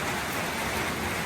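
Heavy storm rain pours down on a village road in a dense, steady hiss, loud and continuous with no pauses.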